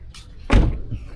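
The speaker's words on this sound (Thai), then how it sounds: "ผมปิดประตู ก่อน" The door of a 2013 Toyota Vigo Champ four-door pickup with a 2.5 engine is shut once, a single close, solid thump with a short metallic latch sound.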